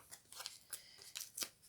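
Scissors snip off excess tape during a glue-free paper box craft, giving a few quiet, crisp cuts close by in a hushed room.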